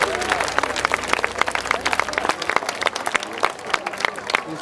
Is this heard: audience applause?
yes